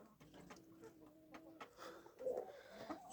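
A rooster in a backyard chicken flock gives low clucks and short calls through steady barnyard noise, with a louder burst near the end and faint bird chatter around it.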